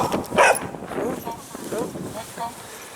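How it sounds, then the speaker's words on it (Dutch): A dog near a paddock gives a few short barks and yips over wind, with a person talking close by. "er was een hond."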